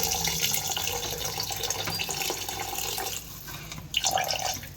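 Water poured from a tap or jug onto rice in a pressure cooker, a steady close splashing stream lasting throughout with a brief pause and renewed gush near the end.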